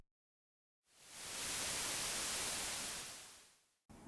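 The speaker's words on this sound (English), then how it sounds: "You can clearly hear white noise coming through with each drum hit." White noise from a test oscillator run through the Logic Pro Phat FX plugin starts after a short silence, swells into a loud, steady, bright hiss for about three seconds, then cuts off abruptly.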